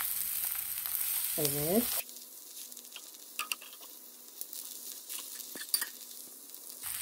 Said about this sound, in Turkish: Tavama yapışmasın diye kontrollü bir şekilde ekmeklerimi çevireceğim.